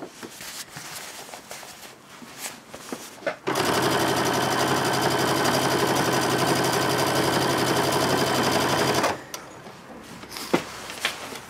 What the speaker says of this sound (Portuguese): Então, eu vou costurar até lá.